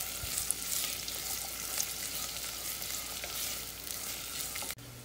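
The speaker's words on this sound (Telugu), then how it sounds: "నూనె కాగాక వెల్లుల్లి రెబ్బలు వేసి దోరగా వేగనిచ్చి ఉల్లిపాయ ముక్కలు యాడ్ చేసి పచ్చి వాసన పోయేంత వరకు ఒక నిమిషం" Garlic cloves and onion pieces fry in olive oil for a pizza and pasta marinara sauce, making a quiet, even hiss with faint crackles. It cuts off abruptly near the end.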